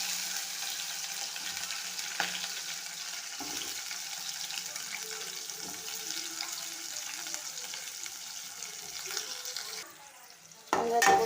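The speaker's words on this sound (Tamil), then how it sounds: "வெங்காயத்தை போட்டு கிண்டி விட்டுக்கிறோம்." Onions frying in oil while being stirred, a low steady sizzle with occasional spatula scrapes, dropping quieter before a louder clatter at the end.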